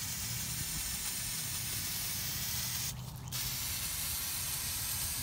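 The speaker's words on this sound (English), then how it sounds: "We're gonna get to spraying." One short hiss of a spray bottle spraying wheel cleaner onto a Dodge Nitro rim, about a third of a second, over a steady low background hum.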